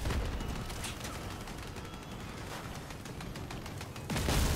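Fused Pulsar weapons in the vehicle combat game Crossout fire in a dense, continuous barrage of crackling blasts and explosions, loud throughout with a heavier burst at the end, no voices.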